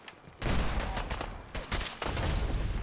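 Volleys of gunfire aimed at Gulpers in Fallout 4 Far Harbor, coming as loud, close bursts of overlapping shots with short pauses between them.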